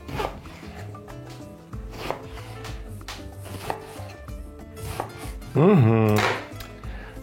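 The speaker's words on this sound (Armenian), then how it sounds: "Երկու անգամ երկարությամբ ենք կտրում եւ մոտ 2-3 սանտիմետր երկարությամբ կտորների, այսպես։" A knife chops eggplant into 2–3 cm pieces after lengthwise cuts, with a steady series of close, crisp cutting-board taps and a loud squeaky rasp near the end.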